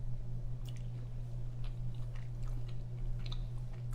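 Close-up chewing of a mouthful of homemade shrimp and grits, soft wet squishing bites repeating over a steady low hum, with no talking.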